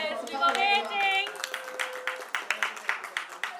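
A wedding crowd at a mehndi and sangeet celebration claps in a quick burst of scattered handclaps, starting right after someone speaks over a microphone.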